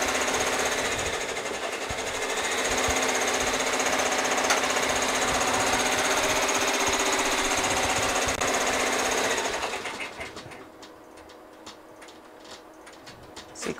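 An embroidery machine stitching sequins onto duffle bags and chef coats runs with a loud, steady, rapid mechanical chatter for about ten seconds, then stops, leaving quieter scattered clicks and handling noises.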